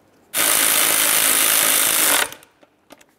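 A power tool runs a valve cover mounting bolt on a 2007-2013 Acura MDX 3.7L V6 in one loud, harsh, rattling burst of about two seconds, followed by a few faint clicks.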